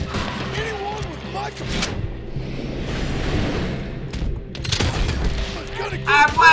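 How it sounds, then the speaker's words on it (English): Gunshots are fired at a boulder in Red Dead Redemption 2, booming and whooshing through a busy mix of game sound and speech, with a sharper cluster of loud reports near the end. "Why can't he keep shooting the boulder?"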